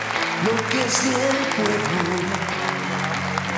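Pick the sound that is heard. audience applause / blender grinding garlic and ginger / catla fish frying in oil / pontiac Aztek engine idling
audience applause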